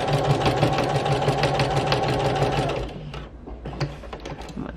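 A sewing machine stitches fabric postcards with torn, frayed edges, a fast, steady mechanical chatter up close that slows and stops partway through, followed by a few short clicks and stitches.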